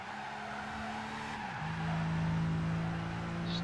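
A race car understeering in Gran Turismo 5, its tires sliding wide through a turn: a steady engine drone under a faint tire scrub, with the engine note dropping and settling into a lower, louder hum partway through.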